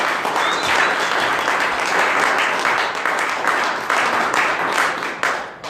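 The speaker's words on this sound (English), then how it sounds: "So one last round of applause for Ken." An audience at a talk gives a sustained round of applause for a speaker named Ken. Dense, loud clapping carries steadily for about five seconds before it begins to thin.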